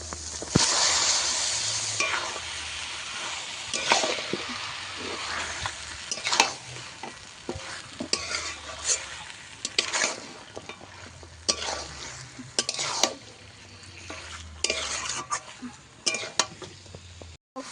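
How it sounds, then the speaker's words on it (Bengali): Spice paste with ground cumin, cooked with chicken skin, sizzles in a pan while being stir-fried, with steady frying hiss, frequent scraping stir strokes and occasional clinks of a utensil against the pan, close and alone without speech. "জিরে বাটাটা দিয়েও আমি মশলা আরেকটু কষিয়ে নেব"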